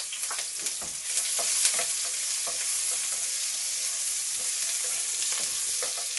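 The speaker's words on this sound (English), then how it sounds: "cooking spaghetti" Onions fry in a pan for spaghetti sauce, a bright continuous sizzle with scattered crackles and pops, stirred now and then, close by and without voices.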